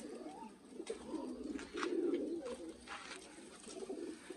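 Golden and Rampuri breeder pigeons coo softly in overlapping, rolling murmurs, with faint rustling and flapping around them.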